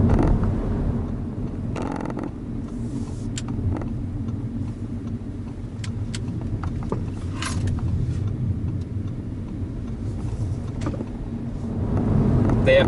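A 2021 Audi A4 45 TFSI Quattro S Line sedan on the move, heard as a steady low engine and road rumble from inside the cabin, with a few faint clicks and rustles along the way.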